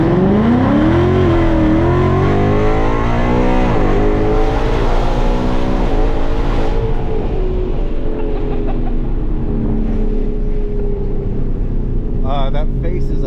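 A Coyote-engined 10-speed Ford Mustang on E85 launches and accelerates hard, its loud engine roar climbing in pitch through repeated gear shifts and then holding steady, with people talking over it inside the car.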